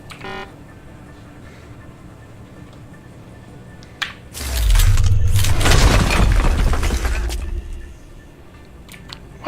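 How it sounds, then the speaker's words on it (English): A wall is forcibly broken in the video game Deus Ex: Human Revolution, heard as a loud crumbling crash with deep rumble and scattering debris that lasts a few seconds before fading, following quieter ambient game sounds. "That was the sound of a wall being forcibly broken."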